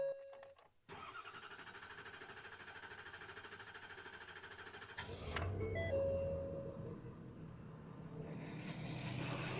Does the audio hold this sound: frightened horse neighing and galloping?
no